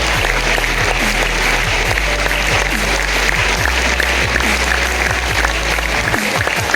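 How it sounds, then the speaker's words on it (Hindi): Audience at an awards recognition night in Maharashtra, loud sustained applause from a large crowd, continuous clapping filling the room without speech. "एक जोरदार ताली हमारे प्रदेश करते हैं"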